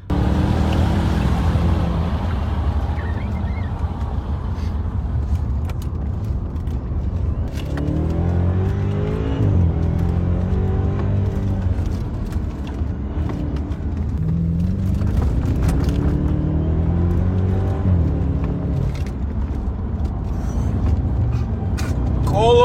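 A BMW 650i is driven through city streets, its engine a continuous low drone with several rising and falling revs as it accelerates and shifts, steady road and wind noise throughout.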